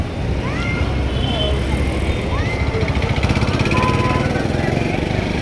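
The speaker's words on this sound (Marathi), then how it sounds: "बघा ही गाडी आपली निघते आता बाहेर." A freshly serviced car pulls out, its engine a steady low rumble that grows slightly rougher as it moves off, with a few squeaks and background voices nearby.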